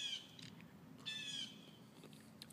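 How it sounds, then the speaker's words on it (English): Birds calling outdoors on a sunny day, a few thin chirps and whistled notes rising over quiet background hiss, faint and intermittent with no voices. "birds are out."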